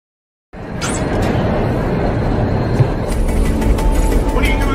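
A moving train gives a steady, broad rumble that starts abruptly after a moment of silence and continues evenly throughout, fairly loud and close.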